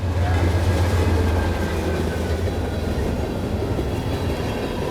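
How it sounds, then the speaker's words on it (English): A freight train rolls past close by with a steady, loud rumble of wheels and rattling cars that continues throughout. "Oh, it's a freight train."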